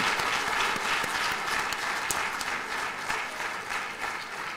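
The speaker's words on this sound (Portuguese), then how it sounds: "uma salva de palmas é merecida." An audience gives a sustained round of applause for a professor after his talk on education, dense steady clapping filling the room at even loudness throughout with no speech.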